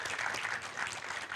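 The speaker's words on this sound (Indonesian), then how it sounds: "Bawa tepuk tangan juga untuk Bang Iqbal" Audience applause at a climate adaptation discussion session for a panelist, a dense steady clatter of many hands filling the room, brief and continuous without voices.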